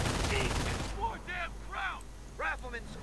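Suppressing gunfire in the World War II strategy game Company of Heroes, a dense burst of rapid shots for about a second, followed by voices talking over quieter background game noise.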